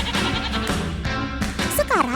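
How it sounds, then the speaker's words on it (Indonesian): Goats bleat in wavering cries at a crowded livestock market in Prambanan, Klaten, Central Java, several overlapping calls near the end against busy background noise and chatter. "Wah, kambingnya banyak banget, teman."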